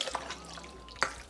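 Marinade poured over chicken in a bowl makes soft, close wet drips and splashes, with a few brief liquid spatters over a quiet kitchen background.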